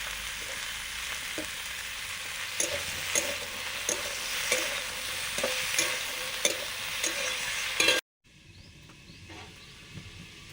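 Potatoes sizzle and crackle steadily in a hot pan, with periodic stirring scrapes; the frying quiets abruptly near the end.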